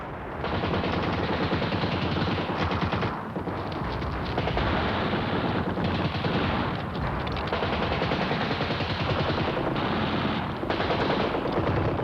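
Continuous heavy gunfire, dense overlapping bursts of automatic weapons fire that roar without a break throughout, during a World War II battle on Crete.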